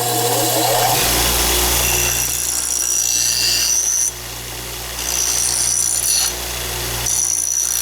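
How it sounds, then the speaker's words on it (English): A bench grinder rounding the end of a bolt held in vice grips, a loud steady whine with harsh grinding that rises and dips as the metal is pressed on and eased off, no voices. "round out the bolts on my grinder"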